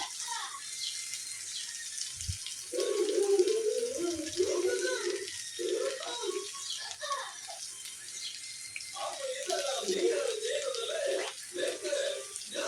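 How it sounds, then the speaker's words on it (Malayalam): Boiling hot water pours steadily into a pan of chicken, with a hissing, splashing rush, while a voice talks over it. "കുറച്ച് വെള്ളം ഒഴിക്കുക. ചൂടുവെള്ളമാണ്, നല്ല തിളച്ച വെള്ളമാണ്."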